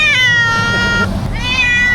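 An angry cat lets out two loud, close, strained meows separated by a short pause, with a low rumbling background noise underneath.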